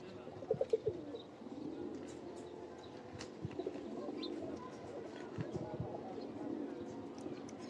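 Pigeons of a fancy breed coo softly at a home loft, low murmuring calls with a few sharper bursts early on, heard faintly amid light background clatter and occasional distant voices.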